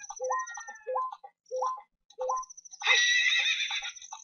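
A horse in The Legend of Zelda: Ocarina of Time whinnies several times in quick succession, short rising calls separated by pauses, followed by a longer, louder bright whinny at the end.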